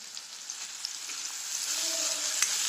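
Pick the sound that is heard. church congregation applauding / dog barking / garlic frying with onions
garlic frying with onions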